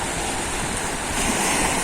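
Rough surf off General Nakar, Quezon, a short burst of strong waves that churn steadily nearby and swell slightly louder toward the end, with no voices.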